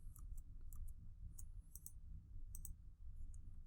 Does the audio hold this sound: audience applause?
no